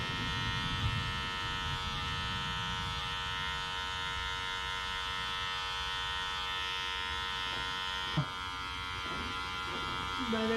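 Electric hair clippers fitted with a 1.5 guard run with a steady, close motor buzz while trimming hair at home, the drone holding level throughout with a brief tap near the end.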